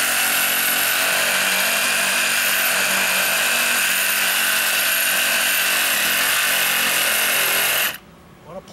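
A Sawzall reciprocating saw cuts steadily with a loud, harsh, continuous buzzing whine for about eight seconds, then stops abruptly, leaving quiet room sound.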